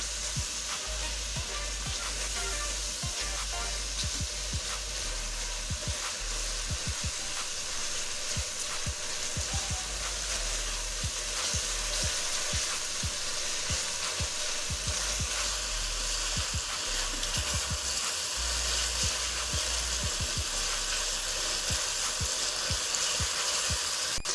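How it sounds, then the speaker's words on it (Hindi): Masala spices with salt, cumin and red chilli powder roasting in hot oil for an aloo matar gajar curry, a steady loud sizzle throughout with frequent crackles and occasional stirring scrapes. "अब इसे भूनेंगे मसाले को अच्छी तरह"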